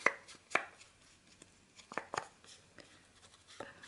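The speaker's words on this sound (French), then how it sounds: "Et on va ancrer l'arrière aussi" An inking tool dabs ink onto paper, making soft, irregular tapping pats close by in a quiet room.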